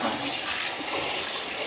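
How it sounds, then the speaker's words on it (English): Tap water runs steadily into a cooking pot in a home kitchen while a shepherd's pie is being made, a continuous broadband rush of flowing water heard close and alone for a couple of seconds. "Add some water."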